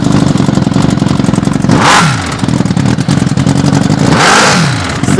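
Engine of a homemade wheeled vehicle starting and revving, loud and close, with a rough mid-pitched clattering idle and two sharp rising revs a few seconds apart.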